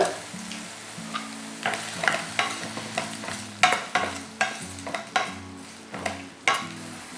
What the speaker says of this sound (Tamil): இப்போ இது எல்லாத்தையும் நல்லா வதக்கிக்கணும்